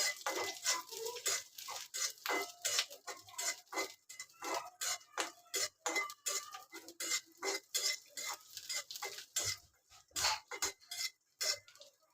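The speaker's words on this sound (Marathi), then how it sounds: "इथे मी आलं लसूण पहिलं भाजून घेते, म्हणजे वाटण भाजून घेते." A spatula scrapes rhythmically across a pan as ginger-garlic paste roasts in a little oil. Close, steady strokes repeat in a quick, regular pattern, with no talking.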